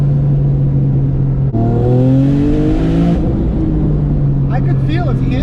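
1000-horsepower Porsche 911 997 accelerating on a test drive, loud engine drone from the cabin that jumps into a climbing rev sweep through a gear, then settles back to a steady roar as voices talk.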